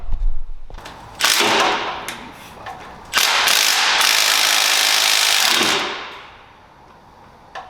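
A ratchet works on the differential bolts of a Lexus SC300 drift build, sounding as loud, close bursts of rapid clicking with brief pauses between them and no voices.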